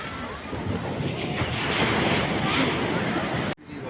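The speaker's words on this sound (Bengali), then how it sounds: "এই দেখুন ঢেউটা পার করে যাওয়াটাই যেটা তারপরে একবার ঢেউ পার করে গেলে আর কোনো অসুবিধা হবে না" Sea waves breaking on the beach at Puri: a continuous roaring wash of surf with wind buffeting the microphone, steady and close, ending abruptly.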